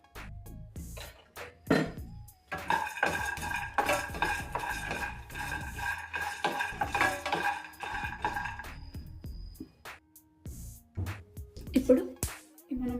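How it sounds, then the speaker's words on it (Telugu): Coriander seeds are dry-roasted and stirred in a pan, with a metal spoon scraping and clinking against the cookware in irregular bursts and short pauses between. "ఇప్పుడు ఇందులో 1 టేబుల్ స్పూన్ వరకు ధనియాలు వేస్తున్నాను. ఇవి కూడా దోరగా వేయించుకోవాలి."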